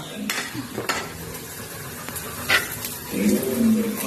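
Food sizzles steadily in a frying pan at home, with a soft hiss and a few clinks and stirring scrapes, growing slightly louder toward the end.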